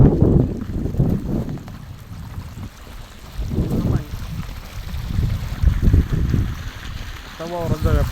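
Irrigation water gushing out into a crop field on an Indian farm, a broad rushing wash rising and falling, mixed with wind buffeting and voices talking.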